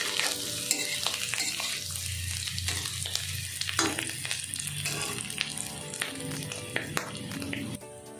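Potatoes fry until crisp in hot oil while being stirred for an egg and potato curry. A steady close sizzle runs throughout, broken by repeated scraping and stirring clatter, with no talk.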